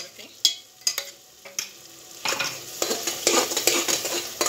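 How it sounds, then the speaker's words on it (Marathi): A spoon stirring roasted masala in a pan for mutton head-and-trotters curry scrapes and clinks in a few sharp strokes, then settles into a steady, louder stirring scrape with a light sizzle of oil. "ढवळून घ्यायचा। हा मसाला आपण भाजून घेतल्यामुळे याला खूप तेलामध्ये आता भाजायची गरज नाहीये।"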